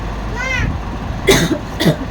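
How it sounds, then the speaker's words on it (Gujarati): Two short, harsh coughs close by from someone with a fever, following a brief faint voice sound, with a low background hum. "ખાંસી પણ થોડી થઈ ગઈ છે"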